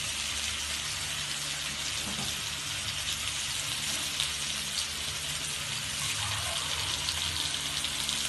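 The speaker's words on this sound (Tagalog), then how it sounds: "Lagyan natin ng konting tubig para papalambutin natin yung" Water poured into a pot of cooking squash (kalabasa) for ginataang kalabasa at sitaw, a steady hiss and gush blending with faint sizzling, continuous and fairly quiet, no talking.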